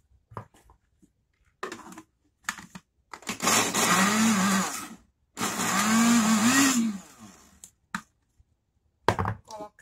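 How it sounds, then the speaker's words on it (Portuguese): A blender purees cooked guava, whirring loudly in two long bursts of several seconds each, separated by a short pause, with brief clattering knocks before and after. "E agora a gente vai passar ela no liquidificador."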